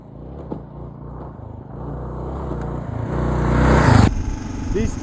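A 2023 Kawasaki KLR 650 adventure motorcycle pulling away on a trail, its engine droning and rising in pitch as it revs up, close and fairly loud, with a voice talking over the start.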